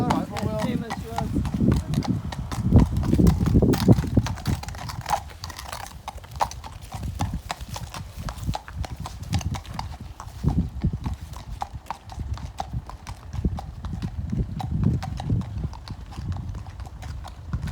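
A horse walking with a steady clip-clop of hooves, close and clear throughout, while people talk nearby over the rhythmic footfalls.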